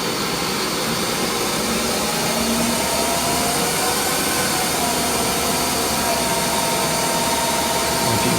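Lathe motors hum and whine continuously in a workshop, with the lathe driven by an electronic leadscrew, giving an even, broadband mechanical drone throughout with no talk.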